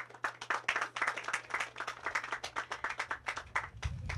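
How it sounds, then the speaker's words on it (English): Audience clapping at the commissioning of an aquaponics system for an agriculture department, with distinct, fairly quick claps from a modest group, recorded at low level with a steady hum underneath. "so they deserve a round of applause"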